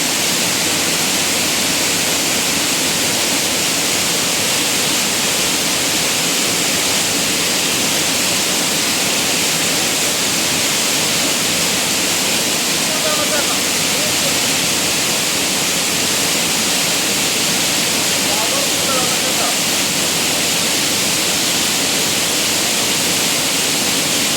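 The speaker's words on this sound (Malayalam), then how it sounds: "ജാനകിപ്പാറയോട് വെള്ളച്ചാട്ടാണ് കേട്ടോ എന്നാ പവറാന്ന് പറയാം വെള്ളച്ചാട്ടത്തിന്" Janakippara waterfall in Kozhikode roars with a powerful, constant wash of falling water, loud and unbroken from start to finish with no voices.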